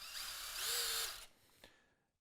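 Festool hammer drill with a brushless EC-TEC motor and tangential hammer mechanism drilling into concrete, a loud, close, high-pitched whine that runs for about a second before spinning down, with no talk.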